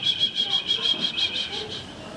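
A storyteller's voice imitates three little birds singing in a tall tree, repeating a high, whistled chirp in a quick, regular pulse throughout, close and clear.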